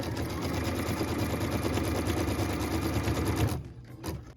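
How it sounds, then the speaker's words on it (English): Embroidery sewing machine with a hoop stitching a cut line on a quilt block, a fast steady whirring rattle close by that stops abruptly near the end, with no talking. "What we're stitching now is a cut line for piece number 6, and this is being done on piece number 5."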